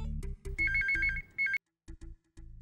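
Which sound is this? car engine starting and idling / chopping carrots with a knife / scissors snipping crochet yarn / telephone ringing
telephone ringing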